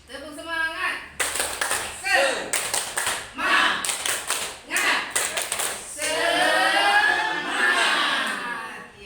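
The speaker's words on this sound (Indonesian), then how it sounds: "Kita tepuk semangat dulu biar lebih semangat." A group of teachers and parents claps a rhythmic cheer routine at a school gathering, bursts of patterned claps mixed with shouted chanting voices, close and lively.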